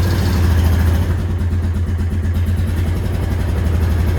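An old Honda ATV engine idling as it warms up in icy conditions, a steady low rumbling putter close by with a slight lift in revs near the start, no talking.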